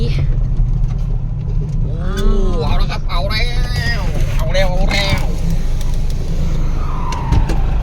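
A vehicle engine working at a flooded pond site runs hard and steady after being started, its deep continuous drone sitting beneath excited talking throughout.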